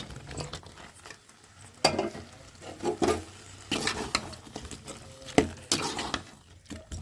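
Boiled chicken pieces are stirred through gravy in a pan, making scraping, clinking strokes with an uneven rhythm, close and fairly loud with no talking.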